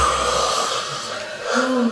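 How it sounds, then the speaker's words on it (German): During a guided relaxation session, a person deliberately yawns a second time: a long, breathy, close yawn that swells and stretches out, heard alone without speech. "Und ein zweites Mal gähnen."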